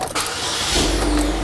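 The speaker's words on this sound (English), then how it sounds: "now we're going to go ahead and try to start it" A 2007 Chevrolet HHR, previously a no-start with code 1682, cranks briefly and then fires, settling into a steady close idle rumble.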